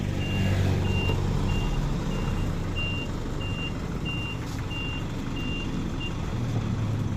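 A truck's reversing alarm beeps in a steady, evenly spaced series over the constant rumble of a busy street during a market day, with traffic noise filling the background throughout.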